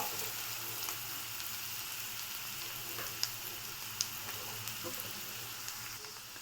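Onions fry in oil in a pan for egg pepper gravy, giving an even, close crackling sizzle with a few sharp pops and clicks.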